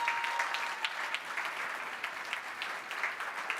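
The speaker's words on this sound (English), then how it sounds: "A round of applause for our winners this evening, folks." Applause from the audience at the 2025 South African Startup Awards in Cape Town, honoring the evening's winners: steady, moderately distant clapping that fills the whole stretch with small irregular peaks, no voices over it.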